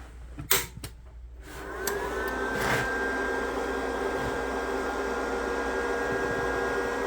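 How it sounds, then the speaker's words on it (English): A Titanium Easy Flux 125 flux-core welder is switched on: a few quick clicks and clunks, then a steady fan hum with a faint electrical whine that runs on unchanged, close by with no talking. "let's go ahead and turn the machine on"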